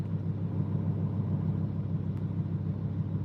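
A Lamborghini Huracan Performante engine running, a steady low rumbling drone heard from inside the car, even and continuous throughout without voices.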